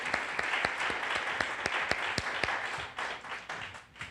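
A church congregation applauding during a worship service, steady dense clapping with a few sharp individual claps standing out, moderately distant and tapering toward the end, no voices.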